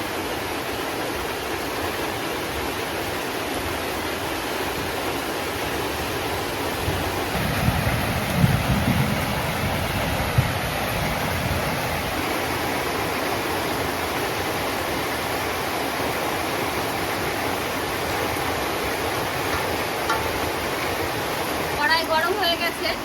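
An outdoor storm sends a loud, continuous rush of wind and rain that roars steadily without pause, with a slightly heavier gust near the middle.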